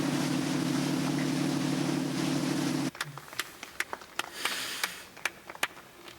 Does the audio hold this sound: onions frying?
no